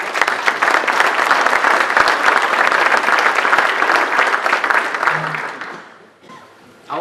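Audience applause at a county industry appreciation event, loud sustained clapping from a crowd for about five seconds, then tapering off and fading to near quiet with a little murmur at the end.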